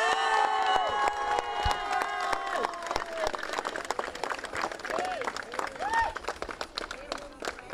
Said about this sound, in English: we need to give both candidates a big round of applause